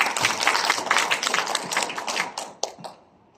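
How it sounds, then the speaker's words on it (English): An audience at a business seminar claps in a brisk, dense round of hand claps that thins out and fades away over the last second. "So really must give yourselves a big round of applause."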